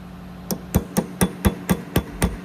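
Sharp metallic hammer blows unstaking the axle nut on a 2003-2007 Honda Accord, eight evenly spaced loud close strikes in a little over two seconds, with no talking.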